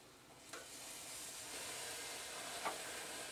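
Thick-cut onion slices sizzling on a hot grill, a steady close hiss and crackle with a few small pops, moderately quiet and unbroken by talk.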